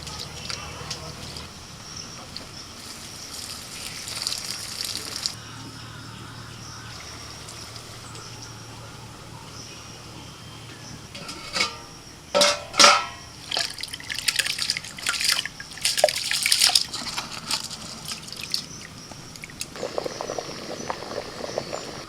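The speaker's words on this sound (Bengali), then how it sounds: "ঝিমঝিম করে বৃষ্টি পড়ছে।" Steady drizzle falls during monsoon cooking at home, with irregular close drips of water, frogs and crickets in the background, and a voice speaking intermittently.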